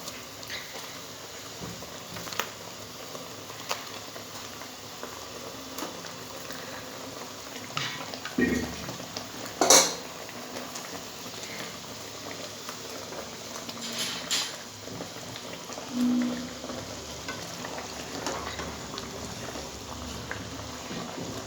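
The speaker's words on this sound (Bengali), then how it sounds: "ঝোলটা ফুটে গেছে" Poppy seed gravy boiling in a pot, a faint continuous bubbling patter with a few louder pops, close but quiet and without talking.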